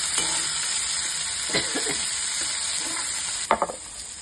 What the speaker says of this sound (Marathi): टमाटे टाकूया. त्याला छान परतून घेऊया आपण थोडं.